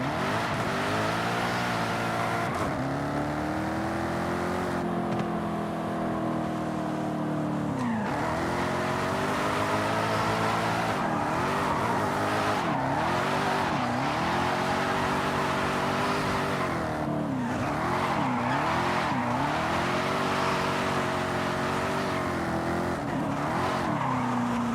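A supercharged V8 car in Forza Horizon 5 revs hard and drifts, its engine note rising and falling in repeated loud surges with tire squeal throughout, and no talking.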